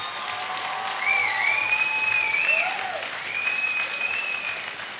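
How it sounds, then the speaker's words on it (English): At a DFC fight event, the crowd applauds steadily for several seconds, with a loudspeaker voice and faint whistling tones over the clapping. "a round of applause is well deserved"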